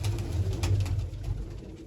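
Large pigeons released into a loft give soft, low repeated coos, close and fairly quiet, pulsing in a steady rhythm with no talking.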